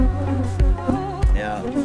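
Honeybees on four or five brood frames in a small queenless nucleus box give off a close, steady droning buzz, broken by a few soft knocks and rustles.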